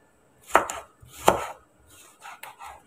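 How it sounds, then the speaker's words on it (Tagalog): A knife chops tomatoes on a board, two firm close cuts followed by lighter, quicker taps, with no talk. "So, maghiwa tayo ng kamatis."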